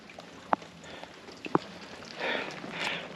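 Rain patters on a trail near a bubbling mineral spring in the Sierra Nevada, a soft hiss of drops with two sharp close taps and swelling gusts of rainfall toward the end.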